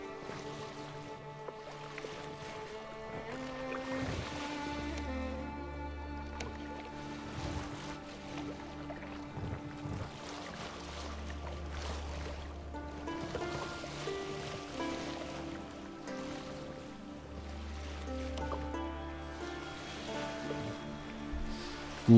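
A pedal boat drifts on a lake in The Witcher 3: Wild Hunt, with soft lapping water and splashy paddling pulses over a faint ambient music bed, quiet and steady throughout.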